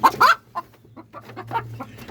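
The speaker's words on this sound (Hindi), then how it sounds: "ये मुर्गियाँ यहाँ अंडे देने के लिए बैठी हुई हैं" Hens in a coop where they sit to lay eggs, clucking in short, close bursts with a louder pair of squawky clucks at the start, then softer intermittent clucks over a low steady hum.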